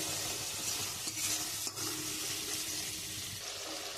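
Spice paste of green chili, salt, turmeric and chili powder frying in oil as it is stirred, a dense continuous sizzle close by with a brief scrape of the spoon.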